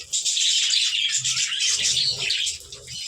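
Several budgerigars chirp busily at close range, a dense, unbroken chatter of high twittering and warbling calls with a few lower sounds underneath.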